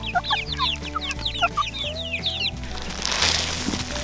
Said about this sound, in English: Here you go, chickens.